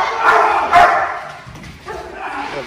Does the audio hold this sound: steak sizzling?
no